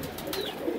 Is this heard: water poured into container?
no